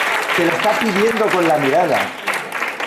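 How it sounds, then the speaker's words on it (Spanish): An audience at a school education talk applauds in a steady, dense burst of clapping while a voice speaks over it, the clapping tapering slightly toward the end. "Lo podéis aplaudir"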